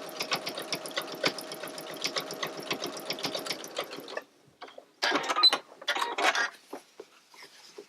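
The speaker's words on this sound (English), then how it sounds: "this one I can do a little faster because my presser foot gives a nice gauge for me here" A sewing machine stitches pintucks on moto pants, a fast even run for about four seconds, then a pause and a shorter burst of stitching with handling noises, close and alone.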